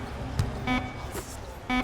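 Buzzer sounds in an NBA Live 22 basketball video game, Raptors versus Knicks playoff, short electronic honks repeating at intervals, with crowd noise and a commentator's voice underneath.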